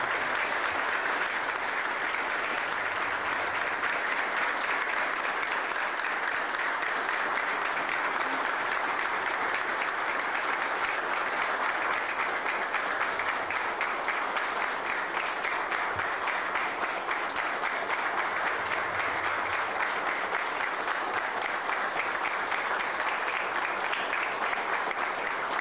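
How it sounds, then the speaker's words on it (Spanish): Sustained applause from an audience at a school ceremony, a dense, even wash of clapping that holds steady for the whole stretch with no voices over it. "Le brindemos un fuerte aplauso."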